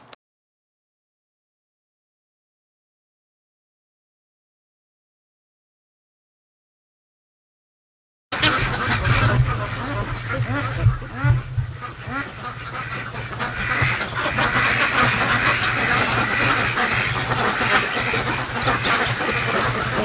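Free-range ducks coming down a creek to a lake: after a stretch of silence, a flock erupts into continuous, overlapping quacking close by, with louder bursts standing out and a steady outdoor background.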